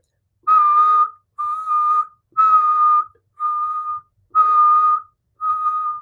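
A person whistles a steady high tone six times, alternating between breathing in and breathing out, each note about half a second long with short gaps between them, clear and alone with no talking.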